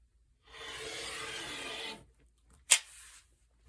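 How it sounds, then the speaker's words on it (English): Scissors trim excess fabric for a pet bandana: one sustained close cutting rasp lasts about a second and a half, then comes a short pause, a sharp snip and a brief follow-up scrape. "I'm just going to trim off this excess fabric here"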